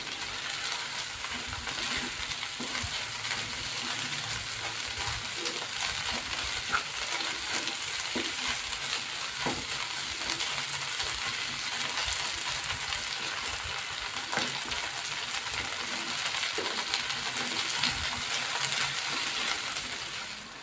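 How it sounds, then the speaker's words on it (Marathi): Corn halwa mixture roasting in ghee in a pan, a continuous soft sizzle with occasional faint stirring scrapes, steady and close, with no talking. "परत अजून थोडं आपण जरा तूप टाकू वरून याला जरा भाजत आल्यानंतर"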